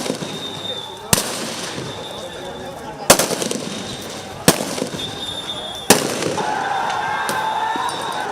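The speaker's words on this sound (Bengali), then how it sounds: "মুহুর্মুহু গুলি, টিয়ার শেল," Sharp gunshots and shell blasts during street clashes between security forces and armed political activists: four loud reports spaced a second or two apart over a restless crowd background.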